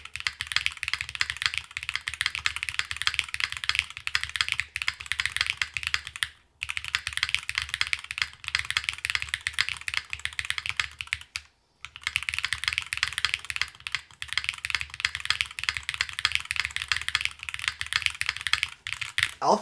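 Continuous typing on a foamless Hall-effect keyboard fitted with WS switches and Wuche keycaps, with rapid close clacks in steady bursts and two brief pauses.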